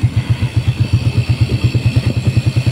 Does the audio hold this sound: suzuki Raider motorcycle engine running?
yes